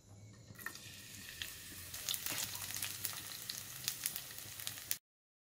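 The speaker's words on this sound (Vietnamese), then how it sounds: "ta xào nấm rơm trước khi cho vô nồi nước lèo." Straw mushrooms stir-frying in a pan with fried shallots, a steady close sizzle with scattered crackling pops running for about five seconds and no talk.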